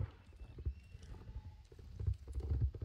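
Galloping horse hooves in the online horse-riding game Star Stable Online, a quick rhythmic clatter of soft low thuds running steadily through the short stretch with no talk over it.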